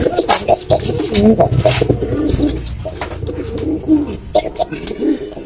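Pigeons cooing close by, soft throaty repeated coos overlapping one another, with light rustling and faint chirps in the background.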